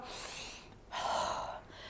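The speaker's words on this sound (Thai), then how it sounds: "หายใจเข้า" A person takes a demonstration breath in a breathing exercise, two soft airy inhalations through the nose and mouth, close and alone without talk.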